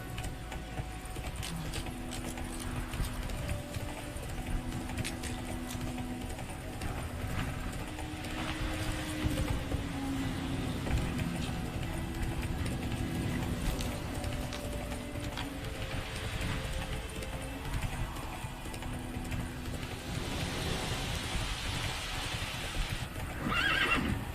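Roach, a horse in the video game Witcher 3, neighs with whinnying calls over steady hoofbeats at a gallop, all set against constant in-game ambience with no one speaking.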